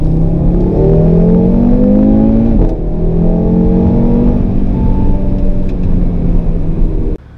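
Audi RS3 Sedan pulling hard in second gear, a loud, steady engine note rising in pitch, dipping briefly at a shift-like break, then climbing again before cutting off.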